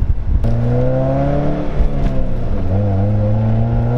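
A 2008 Pontiac Solstice SCCA Champion Edition sports car engine revs loudly and steadily, its pitch rising and falling through several smooth climbs, close by with no talking.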